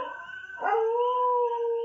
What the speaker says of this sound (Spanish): Aullaban en el patio de nuestra casa de campo Sultán y Marquesa, aquellos dos fieros perros mallorquines